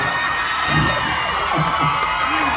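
A large crowd at an outdoor temple-fair concert screams and cheers continuously, a dense roar of high-pitched shrieks and whoops filling the space.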